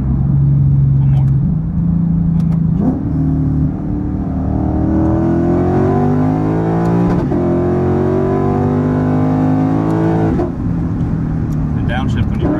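Modified Lexus IS F V8 exhaust on track, loud and close, rising through the revs with several upshifts and a deep throaty drone under intermittent talk.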